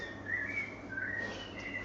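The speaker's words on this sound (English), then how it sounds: "We'll just have the bird song." Recorded birdsong plays quietly over a soft background hiss, with a few clear whistled chirps and trills and no voices.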